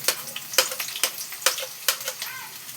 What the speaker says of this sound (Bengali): এই যে পাতলা পাতলা করে ঝিরিঝিরি করে পেঁয়াজ কুচিটা দিয়ে দিলাম